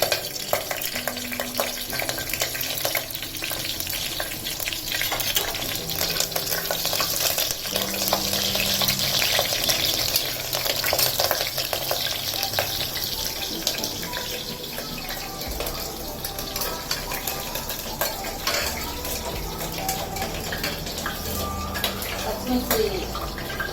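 Green chillies fry in hot oil with a dense, continuous sizzle and crackle, with occasional stirring scrapes and clatter, close and fairly loud. A voice talks intermittently over the cooking.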